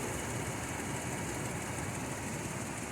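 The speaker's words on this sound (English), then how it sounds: "Must admit, it's a very, very smooth sounding engine" 2004 Toyota Land Cruiser J120 Prado with a 4.0-litre VVTi V6 petrol engine, automatic, idling under the bonnet: a steady, smooth, even hum with no speech.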